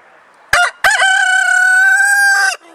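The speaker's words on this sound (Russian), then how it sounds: "А это что, петухи кричат днем к дождю" A rooster crows loud and close by: two short clipped starts, then a long sustained cock-a-doodle-doo call that ends abruptly, with quiet background around it.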